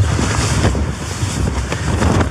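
Heavy storm wind over 60 mph, with rain, roars and buffets around a camp tent. The rush is loud and unbroken, with gusty surges and no voices.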